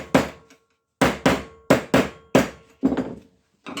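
Hammer tapping small burrs flat on a piece of sheet metal, about nine sharp, close strikes in irregular pairs and singles, each ringing briefly before decaying into silence.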